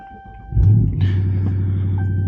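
A 2023 Dodge Charger engine cranks and catches with a loud low burst, then settles into a steady, deep idle rumble close by.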